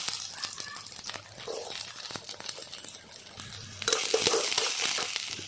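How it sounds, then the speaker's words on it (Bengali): Roughly chopped onions fry in heating oil for a stuffed pointed gourd dish, a steady sizzle running beneath stirring scrapes and rustles that swell louder in the closing seconds. "এখন এই পেঁয়াজগুলোকে ভেজে নেব"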